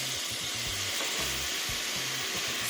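Apples, pears and quince sizzle in an overstuffed hot pan, a steady close frying hiss with faint scraping and stirring underneath, no voices.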